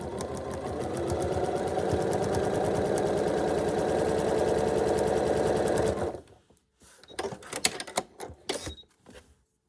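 A sewing machine stitches a folded foundation paper-pieced quilt block in a steady, fast, close-up run for about six seconds, then stops, leaving a few sparse clicks and handling noises.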